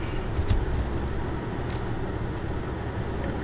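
A lifted new Chevy Silverado 1500 Duramax diesel pickup hitched to a trailer rumbles in a low, steady drone while backing up slowly, with a faint swell early on and no talking.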